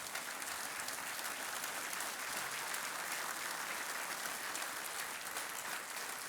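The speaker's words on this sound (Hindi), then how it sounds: "तालियां बजती रहे देवियों सज्जनों।" A studio audience on a quiz show claps steadily, a dense, even wash of applause filling the whole stretch without pause.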